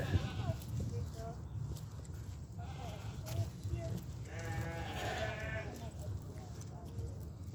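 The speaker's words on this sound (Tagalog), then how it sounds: "Yan guys, may kambing." Goats in a farm animal yard bleat several times, with harmonic calls rising over a steady background of murmuring voices and crowd noise at moderate level.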